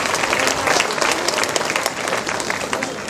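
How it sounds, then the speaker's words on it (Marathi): Audience at an Ashadha Purnima Buddhist function giving a burst of loud, steady clapping that fills the whole stretch without letup, with no voice over it. "त्याच्यासाठी एकदा जोरदार टाळ्या होत्या।"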